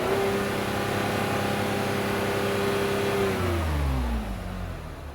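A car engine is held at raised revs of about 4000 RPM as a steady, close drone, then eases back toward idle near the end.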